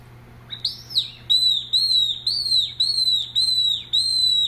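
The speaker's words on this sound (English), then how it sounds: "So this is a frightening bird call." A peewit bird-call whistle: high, thin whistle repeats in regular short bursts, each a clear piercing note with a slight downward bend, fairly close over a low steady hum.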